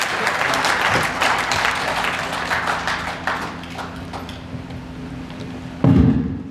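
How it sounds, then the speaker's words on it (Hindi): An audience applauds loudly to welcome a speaker at a Hindi-language public address, thick clapping that gradually thins and fades, ending with a sudden loud thump. "एक बार जोरदार तालियों के साथ आपका स्वागत।"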